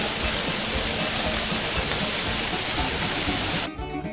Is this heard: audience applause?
no